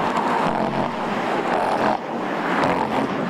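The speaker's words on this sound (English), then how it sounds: "Cars going over rumble strips too fast, creating that awful sound." Tires of a car pass over road rumble strips on a busy road, making a loud, coarse droning rumble that swells and repeats in a couple of waves, with no talk over it.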